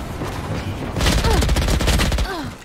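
Spectre submachine gun fire in the video game Valorant, a rapid rattling burst of shots lasting over a second amid other game sounds, close and loud, with a voice briefly heard.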